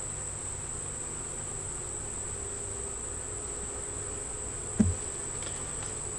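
Honey bees hum around an open beehive in a steady, faint, continuous drone, with one brief soft bump near the end and no voices.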